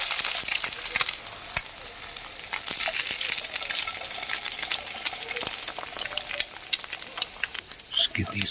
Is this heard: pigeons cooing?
no